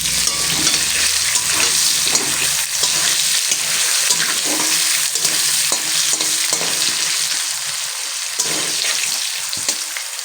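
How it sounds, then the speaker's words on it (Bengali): Pabda fish fry in hot oil with salt and turmeric, a loud, steady sizzle that runs throughout, broken by occasional stirring scrapes and soft spatters, with no talking. "একটু লাল লাল করে সুন্দর করে ভেজে নেব।"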